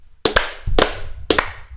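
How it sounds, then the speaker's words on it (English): Three sharp, deliberate claps from a small group, each a quick doubled slap spaced about half a second apart, close and loud with a little room echo. "So why don't we give him three claps?"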